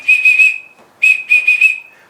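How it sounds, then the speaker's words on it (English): A bright, sustained whistle melody in a music track plays in two phrases of warbling repeated notes, loud and clear with a brief gap between them. "Where that whistle at?"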